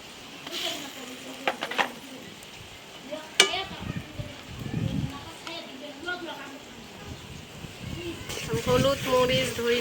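Chilies, onions and ground spices frying in a pan with soft sizzling and occasional stirring clinks, under intermittent talk.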